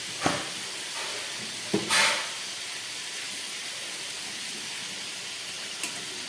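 A pot of vegetarian arhar (pigeon pea) dal simmers with a faint steady hiss and bubbling, a few brief clinks and scrapes near the start and one small knock near the end.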